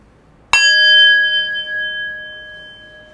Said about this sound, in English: I will ring the bell, ending our third round of meditation.